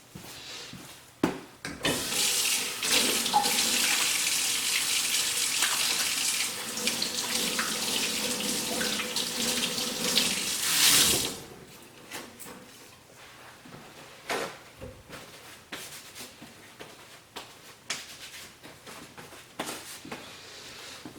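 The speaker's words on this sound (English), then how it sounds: "let's go wash our hands." A tap runs steadily into a sink during handwashing for about nine seconds, then shuts off, followed by scattered knocks and handling sounds nearby.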